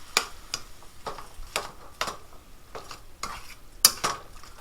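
Tomatoes get stirred into warming chili, with a spoon scraping and tapping the pot in a regular series of strokes over a faint low sizzle, close up and without speech.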